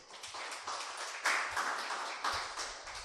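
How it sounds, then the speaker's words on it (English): A round of applause fills a press and public engagement session, steady clapping from an audience sustained for several seconds at moderate distance, with no speech over it. "Could we please give him a round of applause?"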